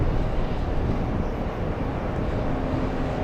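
A JetBlue airliner departing gives a steady broadband roar that holds fairly even for a few seconds, loud and distant in the open air.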